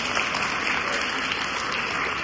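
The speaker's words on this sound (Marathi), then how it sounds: "एकदा टाळ्या वाजवा" Audience applause, a dense, even wash of many hands clapping at steady loudness for the whole short stretch.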